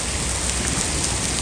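Heavy rain pours down hard and steady during a hailstorm in Faisalabad, a dense, loud, unbroken roar of drops on surfaces with no voices.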